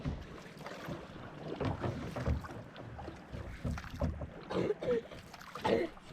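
Water splashes and sloshes against a small fishing boat beside mangroves amid wind buffeting the microphone, with faint voices murmuring now and then.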